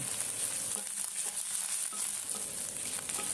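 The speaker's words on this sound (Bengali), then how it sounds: "এরপর তেল গরম করে পেঁয়াজ কুচি দিচ্ছি" Chopped onion fries in hot oil, a dense, continuous sizzle and crackle that stays loud and even throughout, with no voices.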